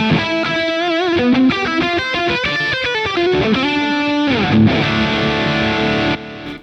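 Distorted electric guitar played through an amp with the bass control turned fully off and the treble raised, a run of bright, gritty chords and picked notes that rings loudly throughout before cutting off near the end.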